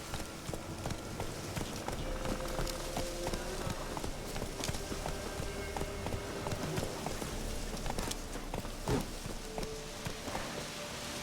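Horse hooves clip-clopping at a run in The Witcher 3, a steady rapid beat of hoofbeats close up over a constant ambient bed, no speech.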